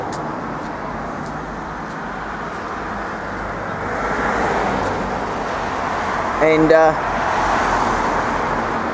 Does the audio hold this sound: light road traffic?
yes